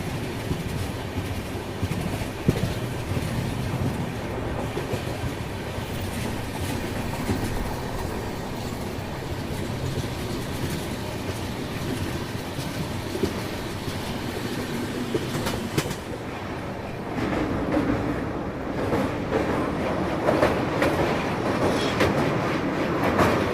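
Coromandel Express, an Indian train running from Odisha to West Bengal, rolling steadily along the rails with a continuous rumble and rhythmic clatter of wheels, loud and close throughout, with no talk.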